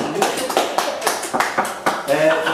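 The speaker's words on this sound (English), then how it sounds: "Come on, put your hands together for Margaret, will you?" Audience clapping for a contestant in a studio show, uneven bursts of claps running throughout with a voice talking over them.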